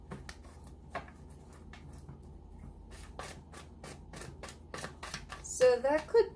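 Soft papery riffling and rubbing of cards in repeated short bursts, close by, with faint background hum and a brief voice near the end.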